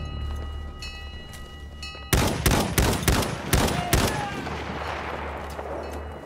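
Rapid bursts of machine gun fire in a Battlefield 1 battle, several loud rattling volleys over about two seconds following quieter ambient combat noise, then fading back to background rumble.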